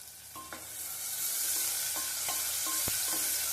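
Sliced big onions and slit green chillies sauté in a pan with a soft, steady sizzle, punctuated by several sharp taps and scrapes of a stirring spoon, close and fairly quiet.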